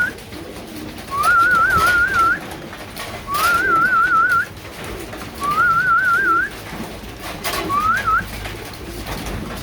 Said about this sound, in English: Well, they're coming through alright,